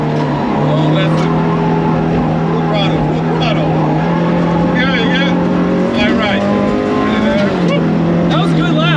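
Rally car engine held at full throttle through a gravel lap, a steady droning note rising and shifting with gear changes and sliding, loud and continuous, with co-driver and driver voices talking over it throughout.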